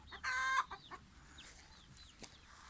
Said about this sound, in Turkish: Burada kendi tavuk kümesim ve civcivlerimiz